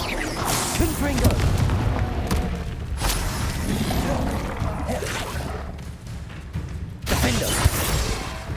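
Confringo spell blasts boom out in Hogwarts Legacy gameplay, several heavy explosive impacts at uneven intervals amid a dense game soundscape, with a voice speaking over them.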